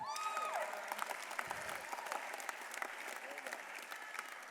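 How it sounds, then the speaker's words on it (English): Audience applause fills a business awards ceremony, steady and continuous from start to finish, with some scattered cheering mixed into the clapping. "Let's give a round of applause for that."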